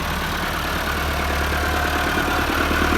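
A tractor engine idles steadily and loudly at close range, a continuous low throbbing chug with no breaks and no talking.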